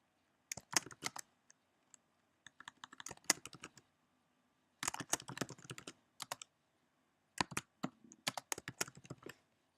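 Bursts of quick computer-keyboard typing come close and clear in short clusters separated by silent pauses, with no talking, as a page name is entered into a website editor.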